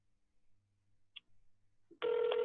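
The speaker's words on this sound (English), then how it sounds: "That's another ring." After a near-silent lead-in with a faint click, a single ringback tone on a speakerphone starts abruptly, clear and steady, while a call to a Popeyes restaurant waits to be answered.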